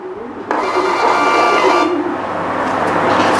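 A Smartcom Bluetooth thermal receipt printer prints a receipt in one continuous close, steady whir that starts suddenly and runs to the end without pause.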